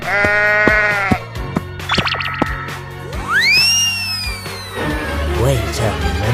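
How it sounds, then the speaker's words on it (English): Sheep bleating in a 3D animal video game, several wavering bleats over a steady game music bed, with busy game effects and a rising whistle-like sweep in the middle. "Sheep."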